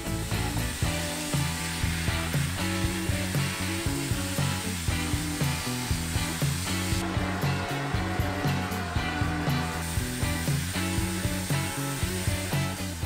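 Porsche carburetor parts are vapor blasted in a cabinet, a loud continuous hissing blast of air and water with a steady pulsing mechanical rhythm underneath throughout.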